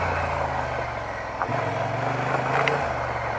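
A Honda XL750 Transalp motorcycle rides along a forest road, its engine holding a steady low drone that shifts pitch partway through, with wind and road rumble around it.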